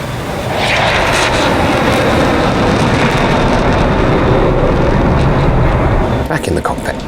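An F-16 jet engine in the DCS flight simulator drones in a loud, steady roar throughout, with a voice talking over it.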